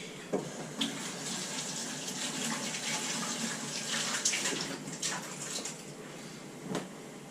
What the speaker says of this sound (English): Rinse my hands quick.